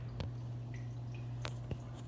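A Marineland Penguin 200 aquarium filter runs with a steady low hum, broken by a few soft drips and splashes of falling water, close and fairly quiet.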